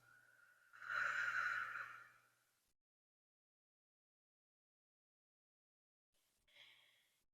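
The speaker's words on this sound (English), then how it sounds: "Take your time, fully inhale. Fully exhale." One long, deep breath during a calm breathing exercise: a loud, airy inhale or exhale lasts about two seconds, then a long silence, then a shorter, softer breath close to the microphone.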